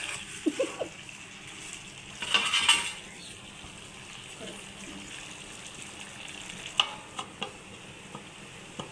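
Farm chicken cooks in a covered pan, a soft steady sizzle underneath with a burst of metallic scraping and a few clinks of a utensil or lid against the pan.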